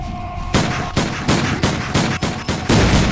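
Six sharp gunshots fire in quick succession in the VR zombie survival shooter VRZ Torment, loud and close, each blast ringing out over a steady background hum with no talking.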